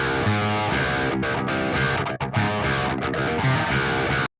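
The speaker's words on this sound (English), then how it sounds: "Pulling back the distortion, you get this really cool, like, kind of intro DI type feel." Electric guitar played through a Boss DS-1 distortion pedal with the distortion turned down, giving a lighter DI-like crunch; sustained chords ring loud and steady for about four seconds, with one brief gap before stopping abruptly.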